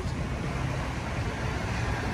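Rough waves churn on Manila Bay near the Yacht Club during a storm driven by typhoon Carina and the southwest monsoon, a steady, dense roar of surf and wind.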